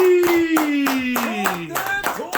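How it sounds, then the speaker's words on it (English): On a talk show, a small group claps in rhythmic bursts to welcome a guest, loud and close, while a sliding tonal sound and a voice run beneath the beats. "I want us to all give a big round of applause for my boy, Lenny"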